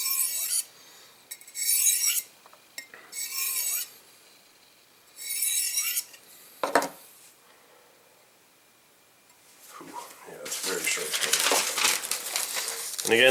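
Light finishing strokes of a knife edge drawn across a low-grit sharpening stone during freehand sharpening, heard as several separate raspy scraping passes in short bursts, then a longer, louder stretch of steady grinding rasp.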